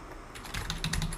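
Computer keyboard keys tapped in a quick, irregular run of light clicks, close by and fairly quiet, with no talking.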